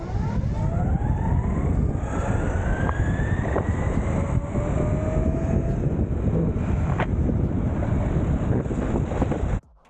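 Titan X electric skateboard speeding up with a steady rush of wind noise and a faint rising whine that climbs in pitch, continuous and loud throughout before cutting off abruptly at the end.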